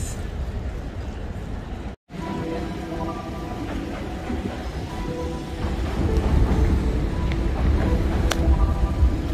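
A train rumbles through Waterloo Station in London as a continuous low roar that builds louder toward the end, with faint tonal squeals and station noise and no clear talk.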